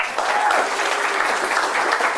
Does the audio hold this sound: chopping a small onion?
no